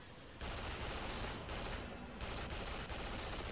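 Rapid gunfire in Duke Nukem Forever, a dense sustained burst of shots that drops out briefly and resumes, loud and close with no talking.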